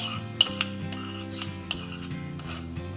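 Flour being mixed with salt and ghee in a bowl by hand for kachori dough, giving soft repeated rubbing and rasping with a few light knocks against the bowl, no voice.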